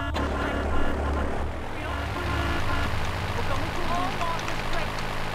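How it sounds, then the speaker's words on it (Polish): A Dodo propeller airplane taking off in the video game GTA III, a continuous droning propeller engine with a fizzy rain-like hiss over it, steady and fairly loud throughout, with someone talking over it. "O kurde, udało się wystartować jakoś."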